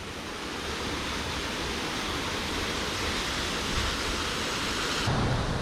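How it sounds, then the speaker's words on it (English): Jungle waterfall in Ubud, Bali, a dense, constant roar of falling water filling the scene at steady loudness with no voices. "I can hear the sound of a waterfall"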